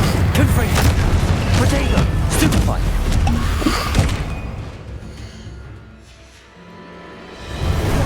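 A Confringo explosive spell blast from the Hogwarts Legacy video game on PS5, heard as loud, dense booming impacts and rumble that sustain for several seconds, then fade toward near quiet before another burst starts at the end.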